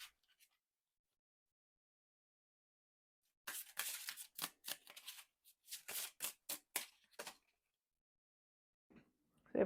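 Oracle cards shuffled and drawn during a card reading: a quiet pause, then a run of crisp, rapid papery riffles and slaps close by, ending with a couple of soft handling sounds.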